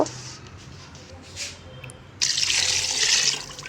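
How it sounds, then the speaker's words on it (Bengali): Tap water runs into a bowl being rinsed at a kitchen sink while cooking meat khichuri, a steady loud gush that starts partway through after quieter dripping and handling sounds. "বাটিটা ধুয়ে পানি দিয়ে নেব"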